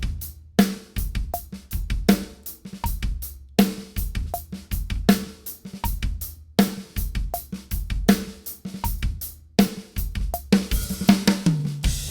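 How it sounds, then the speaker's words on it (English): Drum kit groove featuring quick bass drum double strokes played with a slide foot technique on the pedal, punchy repeated kick pairs under cymbals and snare in a steady, close, unaccompanied pattern. "So this creates a quick double stroke."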